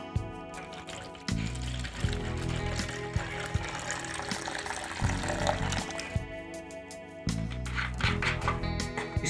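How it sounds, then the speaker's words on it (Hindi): RO water pours steadily into a plastic jug, a close, continuous splashing gush that pauses briefly and then resumes, with no talk over it. "इस RO वाटर को हम इसमें डाल देंगे।"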